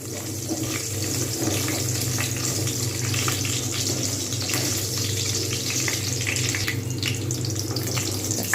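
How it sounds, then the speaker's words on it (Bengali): Bori, Bengali lentil dumplings, frying in a generous amount of oil with a steady, close, dense crackling sizzle throughout, heard alone. "বড়ি ভাজতে একটু তেল বেশি দরকার হয়"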